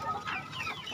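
Backyard village chickens cluck while eating finely chopped cassava leaves, a brief, close, steady burst of overlapping clucks.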